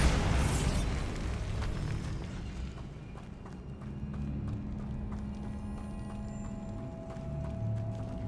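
A Bombarda spell explosion in Hogwarts Legacy erupts with a loud burst at the start, then rumbling debris and a low booming tail fade under continuous game ambience and scattered clattering.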